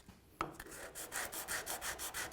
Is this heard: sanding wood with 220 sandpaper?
yes